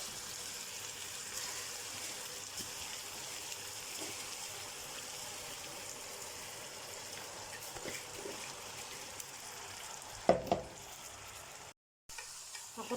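Rice and lentils with softened onion fry and get stirred in a pot for yellow Alexandrian koshari, giving a steady, close sizzle throughout with a few louder scraping clatters near the end.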